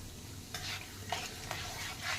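Cumin seeds sizzle softly in hot oil in a pan while a spoon stirs them in slow, repeated scraping sweeps, fairly faint and close.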